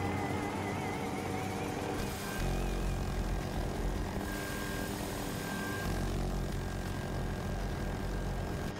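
Attack helicopter in a video game flying past, a steady loud rotor and engine drone that holds throughout with a slight surge midway, alone without talk.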